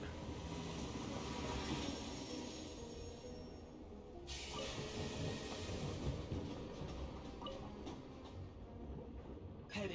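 A ghost train in Genshin Impact rolls along with a continuous rumbling clatter of wheels and carriages, briefly shifting in tone partway through, steady and fairly close throughout with no voices.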